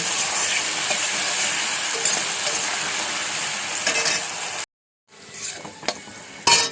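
Vegetables frying with salt and turmeric sizzle steadily while a spoon scrapes and stirs them in the pan, a loud continuous crackle that cuts out briefly before resuming with a few clanks.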